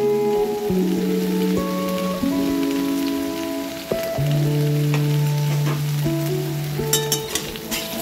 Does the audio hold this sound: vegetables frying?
yes